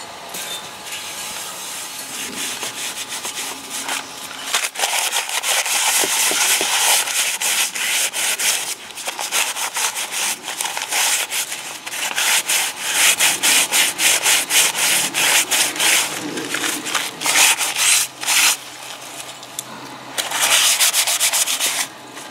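Rust being scrubbed out of a cast iron fry pan, loud rhythmic rasping strokes that repeat steadily with brief pauses between bursts, close and alone without talk.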